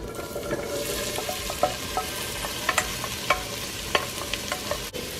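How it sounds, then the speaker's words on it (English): Onions, celery and carrots sauté in melted butter and olive oil, a soft, even sizzle with occasional scrapes and taps from stirring. "We are going to saute these until the onions and the celery is a little bit transparent"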